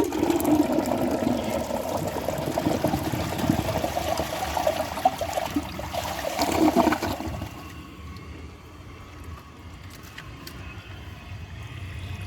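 A 1983 Universal Rundle Atlas toilet flushing with a dish towel in the bowl: a loud rushing gurgle for about seven seconds, then an abrupt drop to a quieter trickle as the tank refills.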